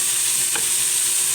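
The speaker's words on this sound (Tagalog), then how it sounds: "Igisa lang natin dyan." Beef skin sautéing in a pan gives a loud, steady hiss of frying with a single brief stir or scrape midway.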